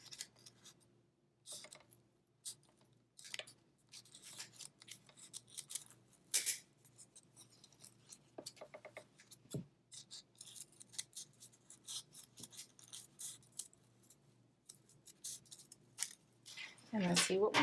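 Scissors cutting through folded paper strips for a four-leaf clover craft, close and quiet, a series of separate snips and slides with pauses between them.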